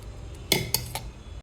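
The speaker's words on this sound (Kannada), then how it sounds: "ಈಗ ಒಂದು ಮಣ್ಣಿನ ಪಾತ್ರೆ ಇಟ್ಟಿದ್ದೇನೆ." A clay cooking pot is set down in a kitchen while making a fish curry, giving one sharp ceramic knock followed by two lighter clinks, close and clear against quiet room tone.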